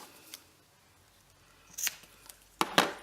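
Scissors trim the ends of a satin ribbon for a handmade card, giving a couple of close, crisp snips near the end after a faint click, with no talking.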